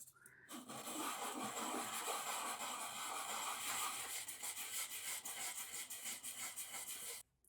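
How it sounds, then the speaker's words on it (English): Steady hand sanding with 320-grit sandpaper, a continuous close rasping hiss that breaks into quicker back-and-forth strokes near the end before stopping. "All right, 320 grit sandpaper."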